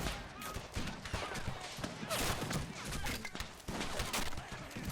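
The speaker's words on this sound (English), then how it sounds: "Quick volley over the trench itself as more Continental infantry is charging ever closer." Musket volleys in Men of War Assault Squad as British infantry fire over a trench at charging Continental soldiers: dense crackling shots and sharp bursts over continuous battle din, with a voice talking over it.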